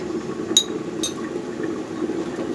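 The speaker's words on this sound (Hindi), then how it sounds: "हम इसमें पानी डालेंगे इतना सारा और इसको पकने छोड़ देंगे" Water is poured into a cooking pot of haleem already seasoned with turmeric and garam masala, giving a soft continuous liquid rush with two bright clinks of a vessel early on.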